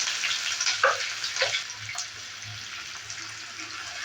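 Chopped onion sizzles in hot oil with cinnamon in a pan, a continuous bright crackling hiss with a few louder spits, close up and without talk.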